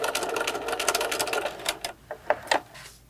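A sewing machine back stitching a fabric face mask with a window: a fast, even mechanical whir of stitching runs for over a second, then breaks into a few short separate bursts.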